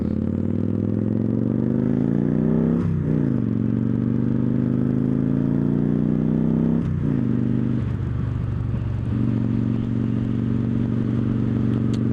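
A Victory Judge motorcycle rides at 45 mph in third gear, its engine holding a steady, close, throaty drone with two brief dips and shifts in pitch, alongside constant wind and road noise.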